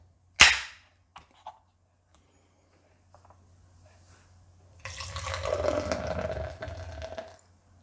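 A can of 6.6% IPA beer is cracked open with one sharp pop, followed by a quiet pause, then the beer is poured for a few seconds with a gurgling, foamy rush that tapers off.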